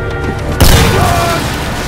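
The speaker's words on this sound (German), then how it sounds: "Granate!" A grenade goes off with a sudden loud boom in the shooter game Sniper Elite V2 Remastered. A quieter stretch comes before it, and a broad rumble lingers afterwards.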